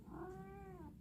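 A male house cat in a kitchen gives one drawn-out meow, close and clear, rising then sliding down over about a second with no voices around it.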